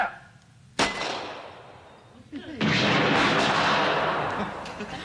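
A volley of rifles fired together on command, one sharp loud crack followed by a longer burst of booming reports with heavy rumble.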